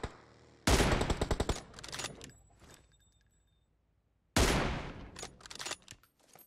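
Rapid gunshots in PUBG Mobile, fired at a Koenigsegg car's tire: two sharp, loud bursts of quick automatic fire, the first longer and the second a few seconds later, each trailing into fainter shots, with little talk.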